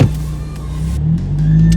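A Suzuki Jimny engine runs while the vehicle backs up slowly through fresh powder snow, a close, loud steady hum with a slight rise in pitch partway through.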